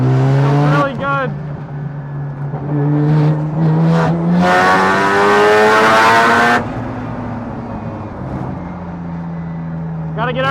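A loud Mazda RX-7 race car engine revs and climbs through the gears up close on a race track, its pitch rising and dropping with shifts, and a voice is heard over it.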